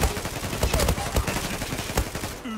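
Rapid, dense automatic fire from the Fateh rifle in the shooter game Zula, a loud, close, sustained burst of shots in quick succession.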